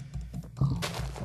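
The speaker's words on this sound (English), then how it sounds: "Sorry for my crazy clicking." A computer mouse clicking rapidly during Minecraft play, a short burst of close, dry clicks that builds into a louder, denser clatter.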